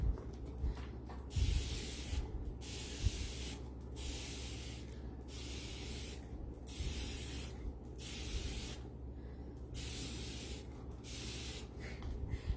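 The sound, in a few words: spray bottle spraying onto T-shirt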